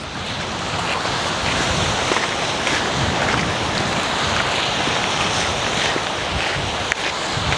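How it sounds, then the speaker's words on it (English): Steady gusting wind roars across the microphone at Arklow South Beach in Ireland, with a broad rushing noise that stays loud and constant throughout, no voices. "it's quite windy as well at the same time"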